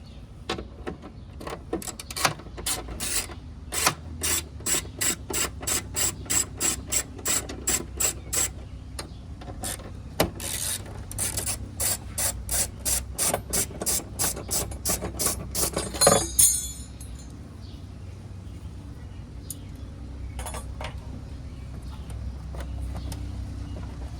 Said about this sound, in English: you have to undo these 2 bolts for the license plate bracket